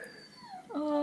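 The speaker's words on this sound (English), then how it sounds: "I hear a whimper." A dog whimpers in a short, high, wavering whine that rises and holds near the end, fairly close and thin, with faint background noise.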